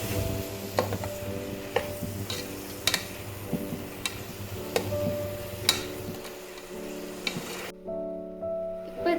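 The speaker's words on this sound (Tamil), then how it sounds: "தயிர் சேர்த்து இது ஒரு வாட்டி நல்லா மிக்ஸ் பண்ணிக்கோங்க" A spoon stirring yogurt into a chana biryani masala in a pot, with soft scraping and a few sharp taps against the pan over a faint steady sizzle, quiet and close, with no voices.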